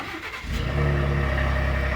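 A 2023 Ford F-150 Lariat pickup engine cranks and catches, settling into a deep, steady rumbling idle through a dual exhaust, close by with no talking.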